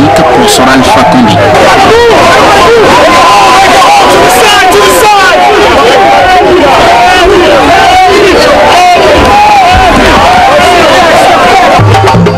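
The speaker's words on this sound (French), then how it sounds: "la mobilisation de la foule qui est venue exprimer tout son soutien au président de la République" Large crowd of Guinean supporters rallying for President Alpha Condé in Washington DC, a dense, loud roar of cheering, shouting and babble that continues without pause throughout.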